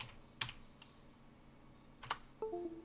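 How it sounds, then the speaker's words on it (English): A computer keyboard clacks with a few separate keystrokes while a CLI command is entered in a quiet room, followed by a brief higher tone. "We type save."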